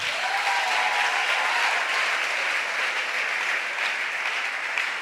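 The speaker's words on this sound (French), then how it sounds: "On acclame Jésus pour lui." A church congregation claps together in steady, dense applause lasting throughout, loud and close, with a faint murmur of voices underneath.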